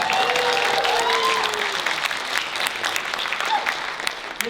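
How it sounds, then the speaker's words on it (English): Convention panel audience at a Chicago comic and entertainment expo applauds loudly and steadily, a dense wash of clapping with some voices mixed in, fading slightly toward the end. "Give them a round of applause."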